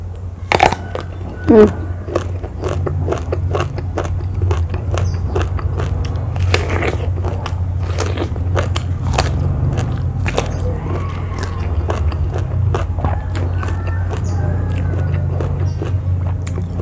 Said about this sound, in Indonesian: Kita mulai dari terongnya aja dulu guys, biar kriuk.